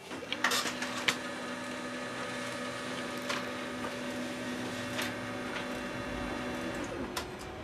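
A printer running a test page whirs and hums steadily at moderate volume, with intermittent mechanical clicks and clunks as the paper feeds through.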